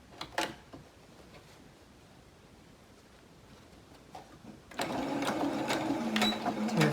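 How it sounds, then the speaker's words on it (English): A sewing machine stitching a quarter-inch seam, starting after a quiet stretch with faint clicks, then running as a loud continuous rapid whir of needle strokes that carries on to the end. "We're going to sew our 1/4 inch seam."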